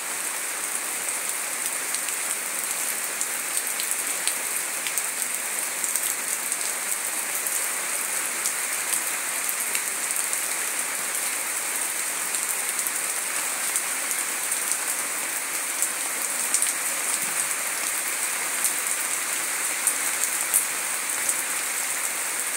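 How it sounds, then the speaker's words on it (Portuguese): Steady rain falling on a surface, an even hiss with scattered drop patter throughout, no voices, moderately quiet and continuous. "A gente aqui se anima muito quando vê chuva."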